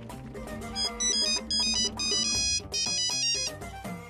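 A mobile phone plays a bright, melodic ringtone close by, with a repeating tune of electronic notes that rises and falls in bursts and no talking.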